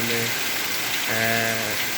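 Steady rain pours down during monsoon flooding, a continuous close hiss throughout, with a voice-like tonal sound briefly rising beneath it.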